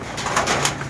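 Pigeons give a brief run of soft, low coos close by, over a steady background hiss during wet, rainy weather.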